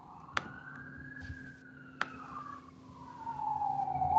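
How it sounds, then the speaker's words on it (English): Police car siren passing outside a home in a noisy area, a faint wailing tone drifting slowly up and down in the distance, with two sharp clicks and growing background noise toward the end. "Sorry, there's a police car."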